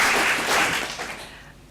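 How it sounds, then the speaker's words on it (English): Short burst of audience applause after a museum panel discussion, a dense wash of clapping that starts full and quickly fades away. "I think a big round of applause is"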